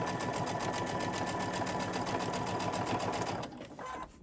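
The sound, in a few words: sewing machine stitching fabric weight cover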